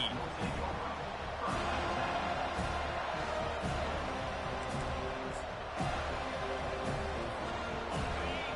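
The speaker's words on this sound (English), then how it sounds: "The roar of the crowd trying to fuel this defense to keep them pinned in their own end" Steady stadium crowd roar from a Madden 2024 football video game, a continuous broad wash of noise with faint bounces, building slightly as the defense keeps the opposing team pinned deep in their own end.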